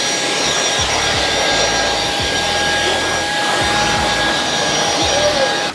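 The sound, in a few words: Halo Capsule X cordless vacuum with motor brush head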